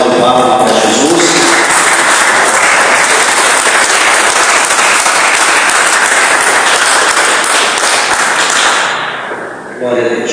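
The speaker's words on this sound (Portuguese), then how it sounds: "Quem pode dar uma salva de palmas para Jesus?" A church congregation claps together during a Portuguese-language worship service, loud sustained applause lasting about nine seconds before quickly fading out.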